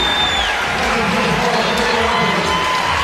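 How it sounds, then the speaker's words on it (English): Loud college basketball arena crowd at Arizona vs Purdue cheering and applauding as the starting lineup is introduced, a steady roar with whoops throughout and a voice talking over it. "they receive the applause that they deserve"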